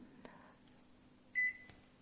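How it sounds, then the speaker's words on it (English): A convection microwave oven gives a single short, bright beep as its convection button is pressed, preceded by a few faint clicks and quiet room noise. "I just press the convection button"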